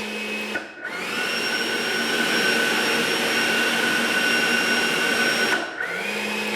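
An E-flite F-16 Falcon 80mm electric ducted-fan RC jet fitted with a thrust reverser spools up into a loud, steady high whine, holds for about five seconds, then winds down, with a lower hum before and after.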